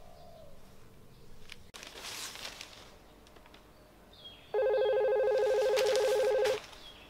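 A telephone rings once with a loud, steady electronic tone lasting about two seconds, after quieter background clatter and a brief sharp knock.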